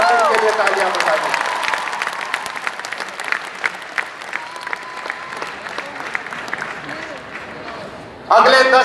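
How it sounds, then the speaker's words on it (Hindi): A large crowd applauds at the Khelo India Youth Games 2019 opening ceremony in Pune, with dense clapping that fades gradually, a voice briefly audible early on, then a sharp louder burst near the end. "आप इनके लिए तालियां बजाइए।"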